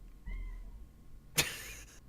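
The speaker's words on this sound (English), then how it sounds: "My cat's crying." A house cat meows with a thin, rising cry, followed by a brief louder burst, close to the microphone in a quiet room.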